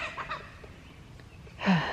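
A hen clucks briefly near the end, a short close call after a quiet stretch with faint background sounds.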